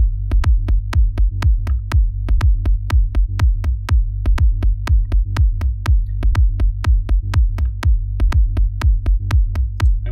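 A deep, booming sub bass line in C loops with a punchy kick drum, steady rhythmic thumps repeating throughout, loud and alone.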